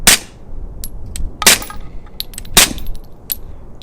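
Suppressed pistol fired with an OSS RAD suppressor on a range: three sharp, loud muffled reports about a second apart, each trailed by metallic clicks of the slide and booster spring.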